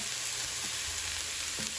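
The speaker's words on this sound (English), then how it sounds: "they're sizzling." Steady sizzling of canned Vienna sausages frying in a pan, a continuous crackly hiss with a couple of soft clinks from stirring.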